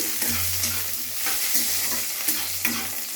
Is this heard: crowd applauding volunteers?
no